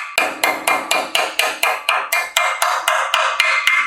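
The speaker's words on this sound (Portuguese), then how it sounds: "Pode bater com um taruguinho de madeira, pode bater direto com martelo, não vai estragar." A hammer taps a bearing cap onto a Jeep Willys steering knuckle in about fourteen evenly spaced, sharp metallic strikes, loud and close, with each ring decaying briefly before the next.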